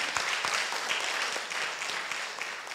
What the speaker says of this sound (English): can we clap for them again?